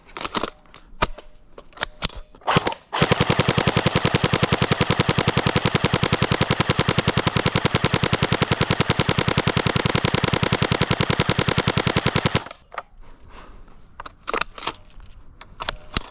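Airsoft gun emptying a full magazine on full auto, a rapid, steady stream of sharp mechanical shots lasting about nine seconds, with scattered handling clicks and rattles before and after.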